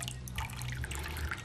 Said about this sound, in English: We're going to rinse this copper wire off with a squirt of distilled water.